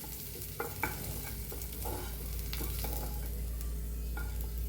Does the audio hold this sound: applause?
no